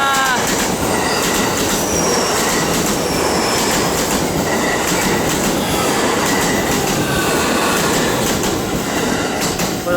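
A train rolls through a station in Japan, a steady loud rumble of wheels on rails with faint high squeals, continuous for the whole stretch with no talk.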